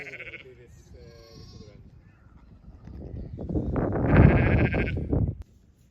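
A ewe recovering after a vet visit bleats near a lamb in a field during lambing time, with several wavering bleats, the last loud and close, over a background of rustling.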